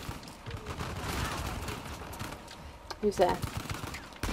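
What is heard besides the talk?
gunfire in video game Uncharted The Lost Legacy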